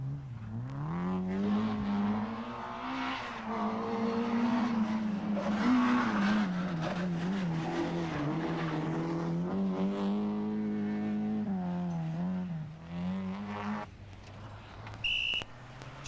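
Billy Coleman's BMW M3 rally car on the Circuit of Ireland, recorded from inside the cockpit: a loud, sustained engine note that climbs and dips through gear changes, with a brief high beep near the end.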